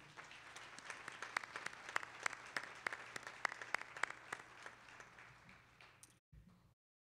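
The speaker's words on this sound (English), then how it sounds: "Please join me in a round of applause for our 2021 retirees." Sustained applause from a commencement audience honoring retiring college staff, a steady wash of many hands clapping at moderate distance that continues for several seconds and then cuts off abruptly.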